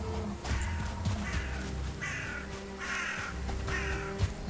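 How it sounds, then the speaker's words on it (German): A crow in the Valheim game caws three times in a slow, evenly spaced series, harsh and moderately distant over a low ambient background. "Ist das eine Krähe da oben?"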